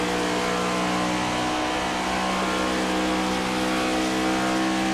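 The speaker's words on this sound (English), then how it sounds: "Hit the braking zone, fluctuating that throttle." Race car engine in a stock car racing game at Pocono Raceway, held as a loud steady drone with throttle fluctuating through a braking zone into turn one, alone without talk.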